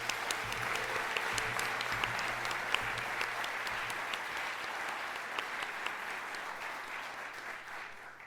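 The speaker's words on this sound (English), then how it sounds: "Let's give our attendees another big round of applause." An audience at the 2018 ISSF opening ceremony claps together in a steady, even round of applause, fairly faint and heard from a distance, with a low hum underneath.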